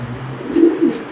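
Pigeons in Jammu's old city coo close by, a low rolling coo swelling twice in quick succession over a faint steady background hum.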